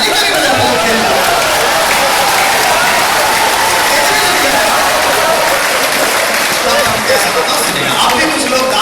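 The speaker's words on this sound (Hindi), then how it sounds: "ताली ताली बजा रहे हो" Sustained audience applause fills a hall at a Kumar Vishwas poetry recital in Siliguri, loud and dense throughout with steady crowd clapping and no pauses.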